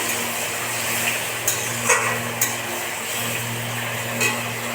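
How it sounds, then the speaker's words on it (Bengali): A spoon stirs thinned sauce into chili chicken in a home kitchen pan, making faint occasional scrapes and light clinks over a steady low hum. "নাড়িয়ে নেবো"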